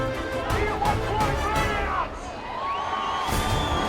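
A crowd roars and cheers at a Summernats burnout competition in Western Australia, a dense, loud wash of voices with whoops and shouts rising over it, continuous throughout.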